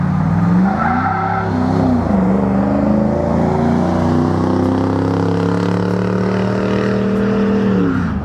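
A 2017 Jeep Wrangler Brute engine revs hard and drones loudly as it drives toward the camera, the pitch rising and holding steady, with a brief tire squeal early on.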